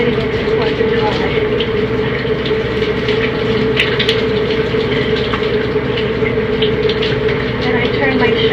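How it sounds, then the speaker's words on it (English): Shower water runs steadily and fairly loud, a continuous even hiss with no breaks and no talking. "And I turn my shower water down to a cooler temperature."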